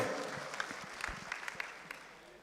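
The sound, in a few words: audience applause for Pak Boy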